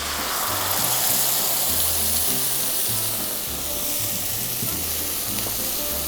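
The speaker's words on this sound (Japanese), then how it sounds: "この揚げた鍋に先ほどの作ったソースを入れます" Black vinegar sauce hits a hot frying pan, erupting into a loud, dense, continuous sizzle that holds steady throughout with no talking.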